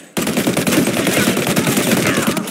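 Rapid gunfire in a shooting exchange in the video game Mafia Definitive Edition, a dense continuous burst of loud shots filling the whole moment after a sharp onset.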